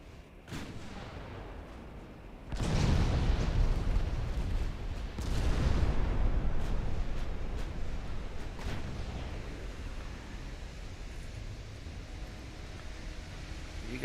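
Big naval guns of warships in Ultimate Admiral Dreadnoughts fire on destroyers in deep, booming salvos, two major blasts followed by scattered distant reports, with long rumbling tails over a steady background hiss.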